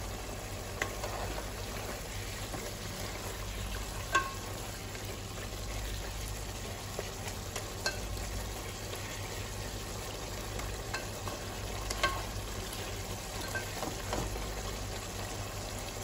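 Mutton curry with chilli powder is stirred in a frying pan: a faint, low sizzle under soft scrapes and occasional clicks of a spoon against the pan, with a steady background hum.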